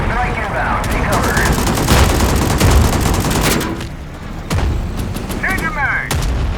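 Enemy strike in the Blood Zone game: rapid gunfire bursts and heavy rumbling explosions crowd together loudly and continuously, with electronic alert tones rising over the battle.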